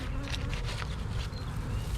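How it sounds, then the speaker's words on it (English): Honeybees buzzing outdoors during a spring hive split, a dense, steady drone of many insects close by, continuous and fairly loud. "There's a bee that got it."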